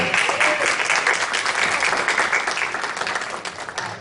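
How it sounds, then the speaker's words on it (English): Attendees at a school board meeting applaud the board's advisor, a brisk burst of clapping that starts full and gradually thins out over a few seconds. "So I want to make sure we applaud her."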